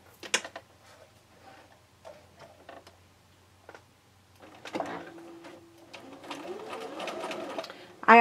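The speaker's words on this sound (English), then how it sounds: "I'm going to start with the first one, and all I'm going to do is sew a 1/4-inch seam around the entire square." A sewing machine stitches a quarter-inch seam around a quilt square, with scattered clicks and handling knocks at first. Several seconds later comes a faint, steady whirring run of stitching at close range.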